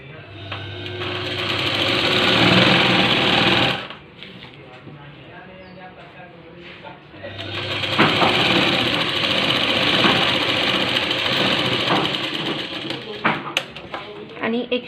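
A sewing machine stitches a blouse button placket with a steady, fast whirring run of several seconds. It pauses briefly, then starts another long stretch of stitching that ends in a few scattered clicks.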